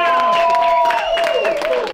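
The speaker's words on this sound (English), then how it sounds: "Give them a huge round of applause." An audience applauds and cheers to celebrate new personal records, with clapping and crowd noise running under a loud, prominent voice before cutting off abruptly.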